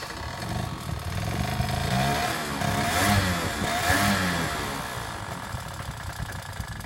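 A two-stroke scooter engine runs steadily after starting, a buzzy idle that swells briefly as the throttle is blipped, close and loud with no talk.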